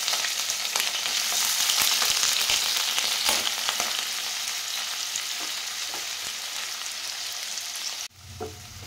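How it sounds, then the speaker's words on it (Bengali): Two small chopped onions sizzle and crackle steadily in about three spoons of hot oil in a pan, a loud continuous frying hiss that drops abruptly near the end. "এবার এই 3 চামচ তেলের মধ্যে ছোট সাইজে 2খানা পেঁয়াজ আমি দিয়ে দিলাম।"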